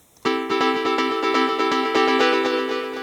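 A synthwave pluck lead synth patch played solo from the drop of a chillwave track, with bright, rhythmic repeated plucked notes starting after a brief quiet moment and sustaining steadily at a fairly loud, even level.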